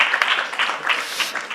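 Conference audience at a discovery stage session applauding after a talk, a short burst of dense, fairly close clapping.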